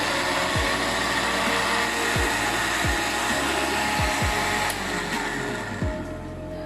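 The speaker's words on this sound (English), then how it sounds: "we will start it to blend, and we will blend it till these leaves they will all properly mix" Countertop blender whirring steadily and loudly up close while it blends mint leaves, water and other ingredients for a homemade minty margarita. The motor drones without a break and repeatedly dips in pitch as the load shifts.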